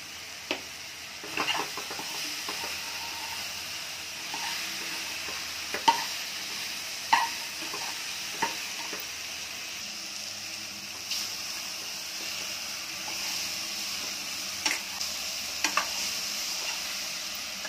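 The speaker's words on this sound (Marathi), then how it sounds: "दोडका आणि मसाला व्यवस्थित मिक्स करून घ्यायचा" Ridge gourd and spices are stirred and sautéed in a pan. A soft, steady sizzle runs throughout, with scattered light scrapes and clicks of a spoon against the pan.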